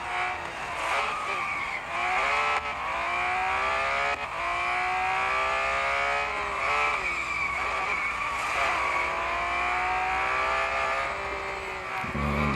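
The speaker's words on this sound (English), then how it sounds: "Do we need to do some skidding to speed up the warming up process?" A BMW M4 GT3 in a racing video game squeals its tires in long, continuous skids, with the pitch wavering and sliding as the car slips, over a constant engine drone and loud throughout.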